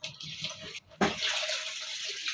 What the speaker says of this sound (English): I'll add in some water